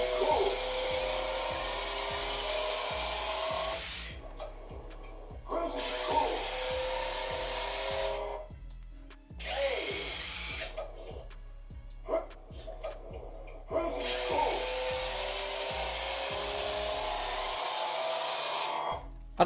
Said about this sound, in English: You can hear the indicator when he turns.